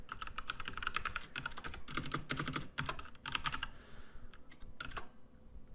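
Rapid, close computer-keyboard typing while editing a configuration file in the vi editor, coming in quick bursts of keystrokes with short pauses between them and no talk.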